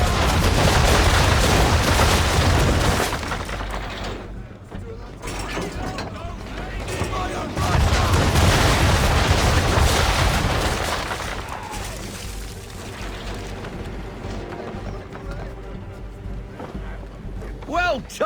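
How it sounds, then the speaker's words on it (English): Ship cannons firing round shot in a naval battle in Assassin's Creed 3, heavy booming volleys and rumbling blasts in dense bursts with creaking mechanical clatter, loud and close, while voices talk throughout. "call fire. Round shot for a start!"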